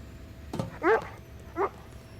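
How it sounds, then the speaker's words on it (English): A dog lets out two short, whiny yips close by, the first longer and rising, the second brief, with a faint low hum in between. "I hear a dog."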